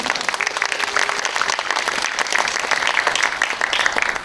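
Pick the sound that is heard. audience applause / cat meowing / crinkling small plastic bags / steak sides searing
audience applause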